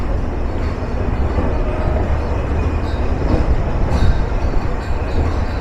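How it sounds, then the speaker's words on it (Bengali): The Nilsagar Express intercity train departs a station in Bangladesh, a steady loud rumble of wheels and carriages with rattling and faint squeals, heard close from on board. "উত্তরের আন্তনগর নীলসাগর এক্সপ্রেস যাত্রা শুরু করলো"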